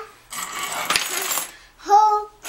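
A bunch of keys jingles close by in two short metallic bursts separated by a pause, in a quiet home.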